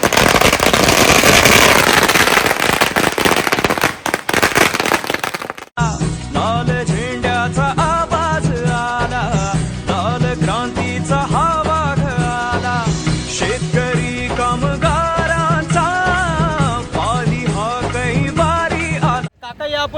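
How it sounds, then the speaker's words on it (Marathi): Firecrackers set off outdoors at a political party celebration burst in a dense, rapid crackling barrage for about five seconds, then give way abruptly to loud music. "फटाका वाजवत आहोत"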